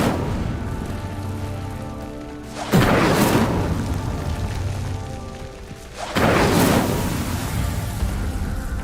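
Incendio fire spell igniting a pyre in Hogwarts Legacy: two loud whooshing, roaring flame bursts a few seconds apart, each flaring suddenly and settling into a steady crackling rush over constant hissing ambience.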